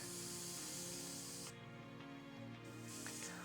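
An airbrush sprays out yellow paint in a continuous close hiss with a brief pause midway, while customizing a Pokémon binder.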